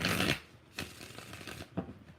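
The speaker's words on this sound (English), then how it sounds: "Three shuffles." Three quick riffles of tarot cards being shuffled, close and crisp, each a short papery burst separated by brief pauses.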